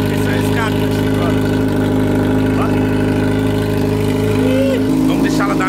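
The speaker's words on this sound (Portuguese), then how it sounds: "Esse é o escape, ó." A motorcycle idles steadily through its exhaust, a loud close rumble with a continuous low throb and brief rises in pitch, while someone talks over it.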